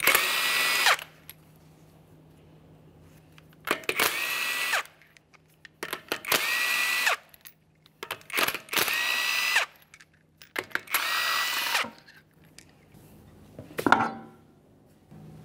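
Power tool spinning off the five 21 mm lug nuts from a 2010-2013 Kia Forte Koup 2.4L wheel: loud, close whirring bursts about a second long, separated by short pauses, with faint clinks and handling noise between them.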